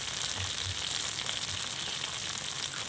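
Turmeric and cumin powder sizzling in hot oil in a pan while cooking a vegetarian doi potol curry, a steady, even frying hiss close up with faint low stirring bumps underneath.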